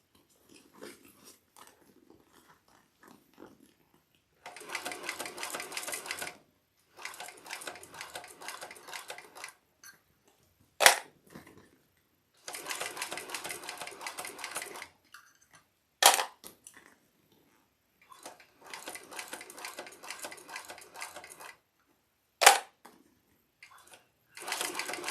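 A sewing machine stitches a vinyl bag with its walking foot raised high, running in several separate bursts of steady whirring with sharp clicks and thumps between the runs and quiet gaps.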